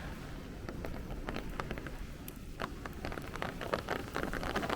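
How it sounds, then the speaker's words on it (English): Heavy rain sweeps across a flooded, puddled parking lot near a Brooklyn boardwalk, a dense steady hiss of downpour with scattered sharper splashes and drips, fairly close and continuous throughout, with no voices. "You could hear the rain coming across the parking lot."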